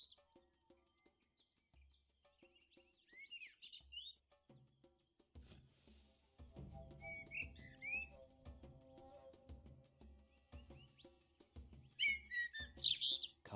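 Small birds chirp and tweet in the cat adventure game Copycat, a few short scattered calls over a quiet background with light rustling and footsteps.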